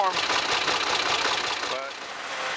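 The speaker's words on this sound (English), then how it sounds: "Key. Cranked right up when it's warm." A warm tractor engine cranks and catches, then settles into a steady mid-pitched idle, loud and close throughout, with the rumble easing slightly near the end.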